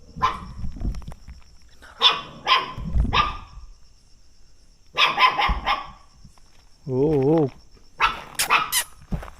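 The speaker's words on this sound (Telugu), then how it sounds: "కుక్క పిల్ల అరుపులు వస్తున్నాయి" A puppy barks and yelps in repeated short bursts, loud and close, with brief gaps and a wavering whimper-like cry near the end.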